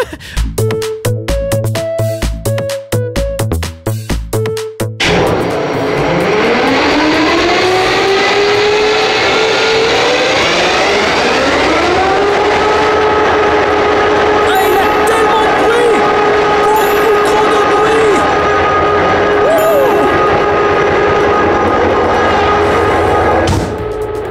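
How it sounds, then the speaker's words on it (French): A heavy locomotive engine cranks with rapid thumping, then catches and roars into a loud, steady drone that rises in pitch and holds, very close. "Il y a beaucoup de bruit quand on démarre le moteur."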